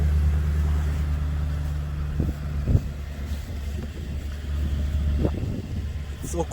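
A V8 engine idles at minus three degrees in freezing air, a steady deep rumble close by with wind buffeting the microphone and a few brief knocks. A voice is faintly present.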